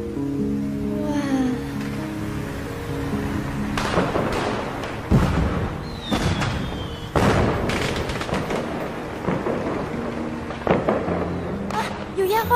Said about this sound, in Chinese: 啊，有烟花！ 九九，快看，有烟花！